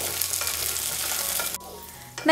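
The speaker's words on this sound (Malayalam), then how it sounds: "ഇതുപോലെ 1 മിനിറ്റ് ഒന്ന് വഴറ്റി കഴിയുമ്പോഴത്തേക്കും നമ്മുടെ വെണ്ടയ്ക്കയിലുള്ള ആ വഴുവഴുപ്പൊക്കെ അങ്ങ് മാറിക്കിട്ടും." Okra sautéing in a pan for a Bhindi masala curry, a loud steady sizzle with stirring that cuts off abruptly near the end, followed by a brief clatter.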